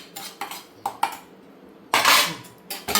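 A utensil scrapes and knocks against a pan while semolina is stirred and roasted in a little oil, in irregular clinks and scrapes with one longer, louder scrape partway through.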